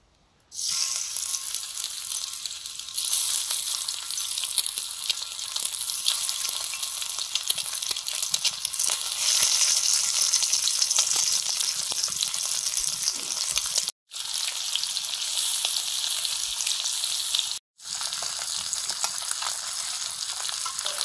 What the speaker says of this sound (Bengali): সর্ষের তেল দিলাম। এগুলো প্রথমে ভেজে নেব, নুন হলুদ ছড়িয়ে দিয়েছি ডিমে।